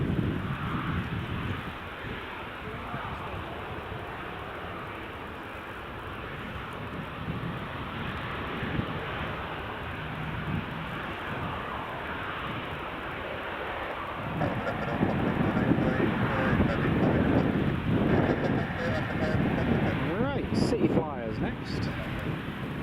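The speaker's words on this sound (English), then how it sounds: "Next, British Airways City Flyer Edinburgh 190, all the way from London City." A British Airways CityFlyer Embraer 190 from London City approaches Edinburgh with a moderate, wind-buffeted jet rumble that swells toward the end. Voices talk over it.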